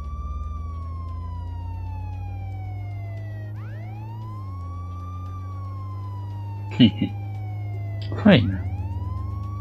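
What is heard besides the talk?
police car siren in Contraband Police video game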